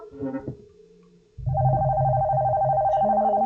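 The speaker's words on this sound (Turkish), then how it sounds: "Mesela telefon çalıyor." A telephone rings with a steady electronic ringtone, loud and close, beginning partway through after a brief stretch of softer tones and continuing without pause to the end.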